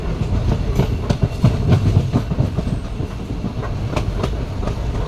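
A train rolls steadily past at Punalur on a Kerala rail line, its wheels beating a continuous clickety-clack over the joints at close range, loud and unbroken with no voices.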